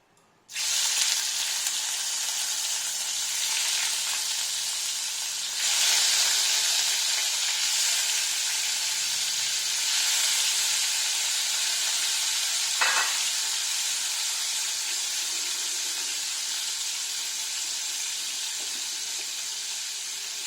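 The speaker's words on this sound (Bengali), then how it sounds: "সর্ষের তেলে আগে মাছগুলো ভেজে নেব" Fish pieces fry in mustard oil in a wok, a steady bright sizzle that swells after a short silent opening and again midway, with a single clack of utensil, no voices.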